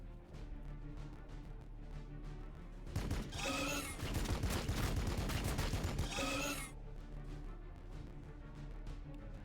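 Sustained gunfire from units in the video game Warhammer 40,000: Battlesector rattles through a roughly three-second burst, dense and loud above a low rumbling battle backdrop, then fades back to quieter ambience.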